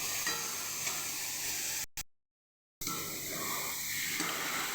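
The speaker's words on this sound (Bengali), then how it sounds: "ঢাকা খুলে নেড়ে নেব" Chorchori vegetables being stirred in a pan, with a steady close sizzle and scraping, a brief dropout midway, then the frying noise continuing as the lid comes off.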